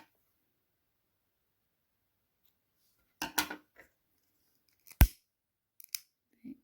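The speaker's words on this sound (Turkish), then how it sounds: "Ben arkada ipi kesiyorum" Scissors snipping thread while crafting a butterfly figure, a few short sharp cuts separated by quiet pauses, close and fairly faint.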